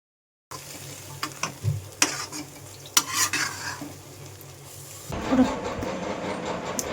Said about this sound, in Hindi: जब तक सारे मसालों को भून लेते हैं हम